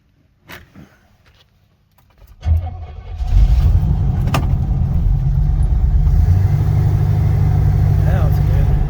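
A Pontiac Ventura without a choke turns over and catches, then runs cold at a loud, rough idle close by, sounding as if it wants to cut out, with a person talking nearby.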